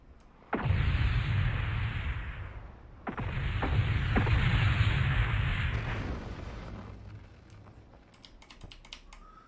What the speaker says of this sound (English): And here comes the missiles.